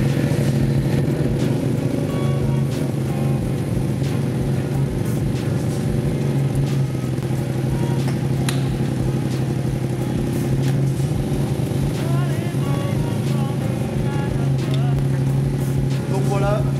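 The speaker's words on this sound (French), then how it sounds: "Donc vous démarrez votre moto et vous faites tourner la chaîne." A motorcycle engine idles steadily and close by to spin the chain during cleaning, a constant low rumble with light mechanical clatter throughout and a voice talking over it.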